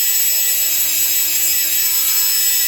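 A felt wheel on a rotary tool buffs imperfections from a latex mask, giving a steady, loud high-pitched whine with constant grinding hiss throughout and no pauses.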